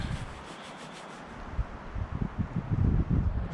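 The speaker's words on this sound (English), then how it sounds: "it's definitely too windy out here" Gusts of wind buffet the microphone, a low rumbling rush that builds and grows louder toward the end.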